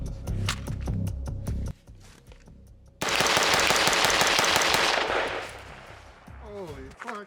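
An M4A1 Daniel Defense 14.5 rifle fires a rapid string of loud, close shots, then a dense sustained burst that rolls off into a long echo.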